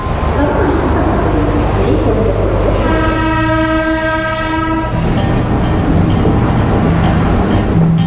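A train pulls out of Colombo, Sri Lanka, rumbling and clattering loudly from onboard, with a long horn blast sounding in the middle of the ride.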